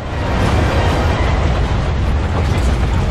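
A train moves in the Quantum of Solace video game during a Montenegro train level, giving a loud, steady, dense rumble and roar with broad noise, close and continuous, with no speech.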